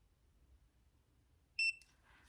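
A TYMO ROVY hair curler sounds one short, high electronic beep up close after a stretch of near silence, trailed by faint rustling.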